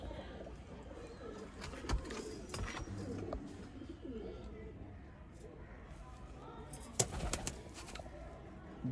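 Soft cooing of a breeding pair of Chapra pigeons in a noisy outdoor setting, partly buried under background chatter and a few sharp clatters.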